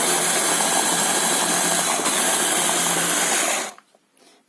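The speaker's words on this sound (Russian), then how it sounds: "Вот черную смородинку решила миксере, не в миксере, в блендере взбить с сахарком." Blackcurrants blended with sugar in a kitchen blender, a loud, steady motor whir running close up for nearly four seconds before cutting off abruptly.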